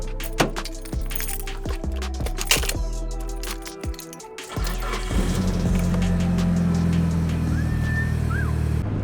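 A Mitsubishi Evo in stock form, its engine starting up after clicks and rattles around the cabin, then settling into a steady, close rumbling idle and drive through the second half.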